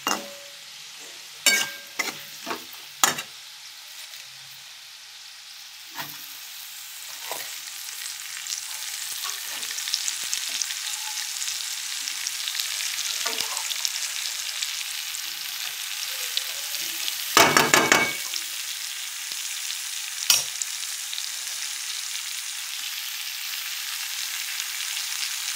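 Cabbage stir-fries in hot oil with a steady, close sizzle, punctuated by scraping and clinking of a spatula against the pan, and no one speaking.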